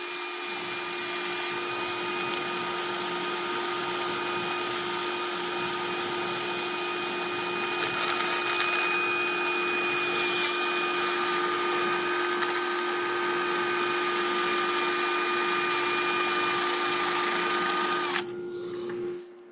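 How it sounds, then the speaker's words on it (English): A dust extractor runs continuously in a woodturning shop, a loud steady whooshing roar with a constant hum that holds level for almost twenty seconds before cutting off. "the dust extractor didn't suck that piece of sandpaper up"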